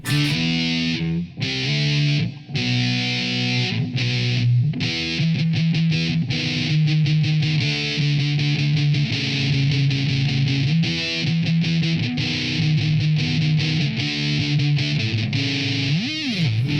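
A heavily distorted Donner DLP-124S Les Paul-style electric guitar plays sustained chords and riffs at full tone, loud and continuous, with thick, gritty overdrive throughout.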